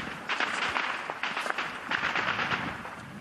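Automatic rifle fire during shelling near residential quarters, heard as a rapid string of sharp cracking bursts at moderate distance over a rough outdoor background, with no talking.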